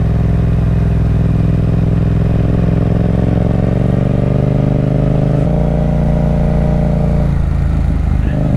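A Yamaha XSR700 motorcycle rumbles on a ride toward a mountain shrine in Bulacan, a loud close engine drone with shifting revs and a drop in pitch near the middle; no speech.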